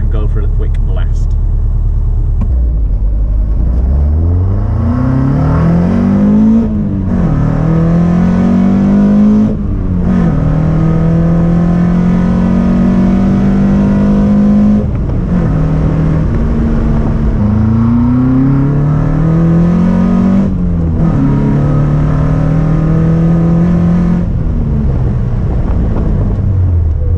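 A Caterham Super Seven 1600 roars as it drives hard, the loud, close engine climbing through several revving pulls, with brief dips between gear changes, over a constant rumble of wind and road noise for nearly half a minute.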